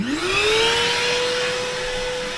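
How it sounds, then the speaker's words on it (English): A loud, steady whine of a vacuum blowing air into a car's exhaust pipe during exhaust manifold repair, rising in pitch at the start and then holding a constant roaring tone. "This is just a vacuum blowing into the exhaust pipe."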